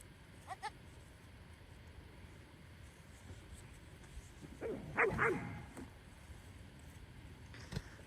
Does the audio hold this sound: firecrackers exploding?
no